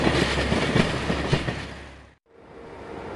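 ANF Caravelle X 4300 railcar running on rails, a close, loud rolling rumble with wheel clatter that drops away abruptly into near silence before the rumble resumes more faintly.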